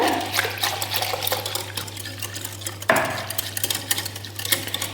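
Room-temperature water splashes and swirls in a bowl of jelly mix with light clinks of a spoon stirring, close up and fairly continuous, without any speech.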